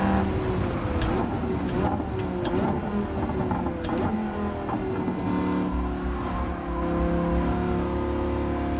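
A big V10 race car engine in Gran Turismo 7 roars steadily at high revs throughout, loud and continuous with shifting harmonic tones as it pulls past a Corvette V8, with no talk over it.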